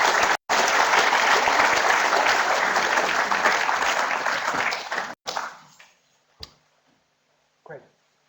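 Applause from a lecture audience welcoming the speaker fills the room loudly for about five seconds, then trails off into a few scattered claps and quiet.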